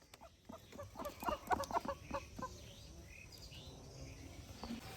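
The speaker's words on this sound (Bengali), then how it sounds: "এই হাঁস এই হাঁস ডাক ডাক" A burst of quick, nasal quacking calls from nearby birds rises for a couple of seconds, then fades into quiet background.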